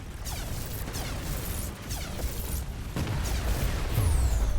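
Cannon fire and explosions in the space strategy game Taur, a series of heavy booms and crashing impacts over a rumbling battle backdrop, with sweeping whistling tones and no talking.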